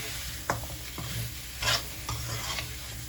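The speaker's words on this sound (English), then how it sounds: "give it a nice stir." Mutton curry is stirred in a pot: several distinct scraping strokes of a spoon against the metal over a low, continuous bubbling sizzle, close and fairly quiet.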